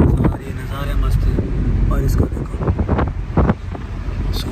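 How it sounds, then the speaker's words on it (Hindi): Cool wind buffets the microphone outdoors on a trip to Shillong, a steady loud rush with gusty swells and scattered clatter throughout the clip. "मस्त ठंडी ठंडी हवा चल रही है"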